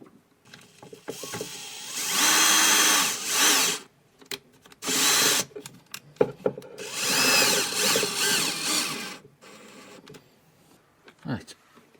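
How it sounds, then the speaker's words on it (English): A power drill drives screws into wooden kitchen drawers being fitted in a campervan, running in several loud bursts of a few seconds each, with a person talking in the pauses between them. "I'll just put a clamp on there, drive 2 of the screws in"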